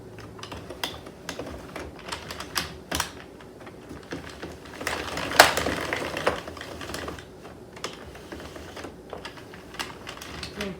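Addi knitting machine with a yarn tensioner knitting rows, a rapid, irregular series of light plastic clicks and clacks, fairly close and quiet, with a slightly louder cluster midway.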